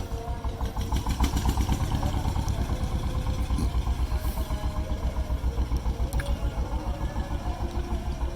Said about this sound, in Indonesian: Oke, mesin udah dinyalain